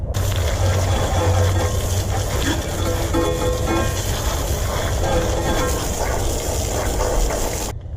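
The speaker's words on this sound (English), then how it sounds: "I'm going to use some water just to get the brake dust off of this." Water spraying steadily onto rear brake parts of a 2016 Jeep Wrangler to rinse off brake dust, a continuous close hiss and gush lasting throughout without pause.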